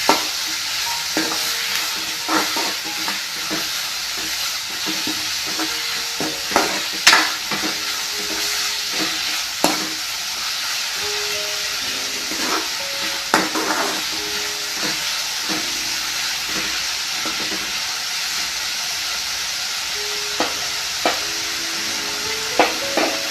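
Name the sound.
onions being stirred and fried for curry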